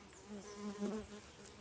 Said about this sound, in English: Look at it, a lot of bees on it.